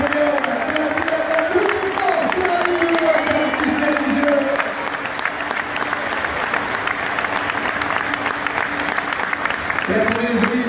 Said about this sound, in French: Allez, mesdames et messieurs, tous les applaudissements